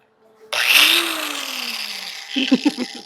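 A power tool spins up sharply to strip black E-coating off metal on a 1967 car before welding, a loud whirring grind that holds and slowly winds down, with a short voice near the end.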